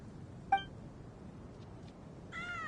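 A cat in the video game Genshin Impact gives a short, close meow early on, then a longer, louder meow near the end over quiet background hum.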